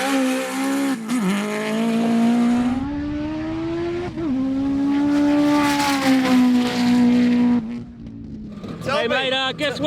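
A Mitsubishi Evo with a four-cylinder all-wheel-drive setup makes a drag racing pass, its engine revving hard and loud through rising gear pulls with brief shift breaks, up close and continuous.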